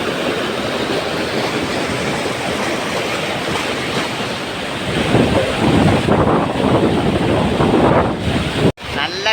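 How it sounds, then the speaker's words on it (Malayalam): Strong wind gusts over rushing water at Adayappad waterfall in Pathanamthitta, a loud continuous roar that swells and grows rougher partway through, ending in a brief dropout. "വെള്ളത്തിൻ്റെ കൂടെ നല്ല കാറ്റടിക്കുന്നുണ്ട്"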